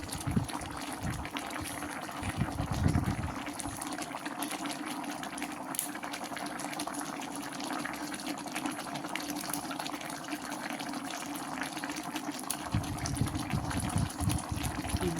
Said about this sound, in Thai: เดือด เดือดเสียงดังฟังชัด